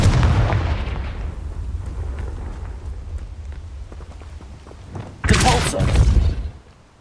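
A Confringo blasting spell in Hogwarts Legacy bursts as a loud, sudden fiery explosion near the end, following a stretch of rumbling combat noise.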